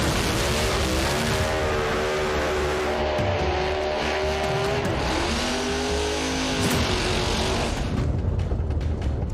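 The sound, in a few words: drag race cars racing in the Grade 8 finals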